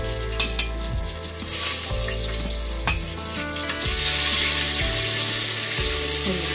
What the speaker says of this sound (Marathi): कढीपत्ता, आलं लसूण आणि मिरचीचा ठेचा केलाय तो टाकते.